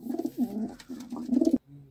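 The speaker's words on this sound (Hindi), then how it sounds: "ये हमारे तीन कबूतर नए" Racing pigeons coo in a close, loud run of low throaty calls with a brief pause, then stop abruptly near the end.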